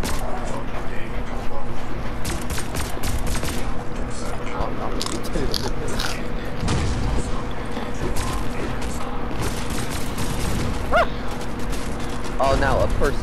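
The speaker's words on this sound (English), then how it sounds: "now a person shooting at me" Rapid video game gunfire crackles in quick bursts among mechanical clatter and ongoing action noise, with a voice talking over much of it.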